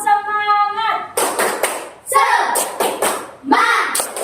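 A primary school class claps out a rhythmic chant in a classroom, sharp bursts of group clapping and shouted voices following a short sung phrase, loud and close.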